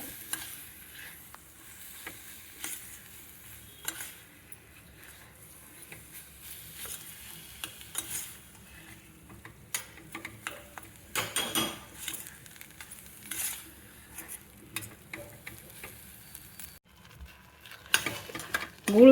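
Chopped jaggery stirred and sautéed in a pan while cooking puran poli, with a soft continuous sizzle and intermittent scraping of a spoon against the pan, quiet and close, with irregular stirring strokes and no talking.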